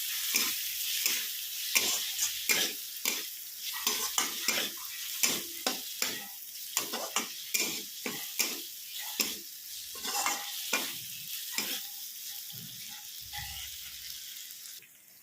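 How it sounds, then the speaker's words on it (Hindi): Tomatoes with red chilli, cumin powder and turmeric fry over a medium flame for palak chana dal. A spoon scrapes and stirs in a steady rhythm of close, sharp strokes over a continuous hissing sizzle, with no talk. "इनको टमाटर को गलने तक भूनेंगे मीडियम फ्लेम पे।"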